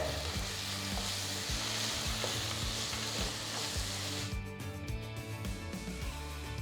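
Onion and tomato masala with coriander powder sizzles loudly in a pan for crab curry, with steady rhythmic scraping and stirring throughout; no one speaks.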